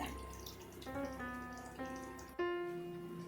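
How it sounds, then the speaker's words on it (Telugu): Water pours steadily into a cooking pot nearby for a raw banana and prawn curry, with a faint ringing tone as it fills. "ఇది పోసేసి సరిపడి వాటర్ పోసుకోండి"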